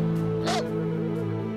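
A dog barks once in the video game Janosik, a short yelp heard over steady droning game music with faint background sound.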